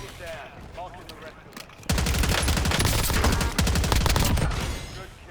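Hip-fire gunshots from the video game Warzone on Rebirth Island break out after a brief stretch of talk: loud, rapid automatic bursts that crackle continuously for several seconds before easing off.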